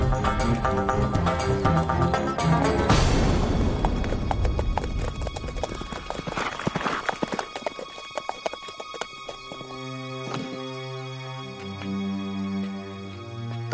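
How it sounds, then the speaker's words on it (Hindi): Horse hooves clip-clopping across the opening seconds in a Hindi period TV drama set around Jhansi, with a whinny and busy music; the hoofbeats are steady and near, then give way to a sustained musical passage without talk. "ये तो श्रीमंत साहब का घोड़ा है।"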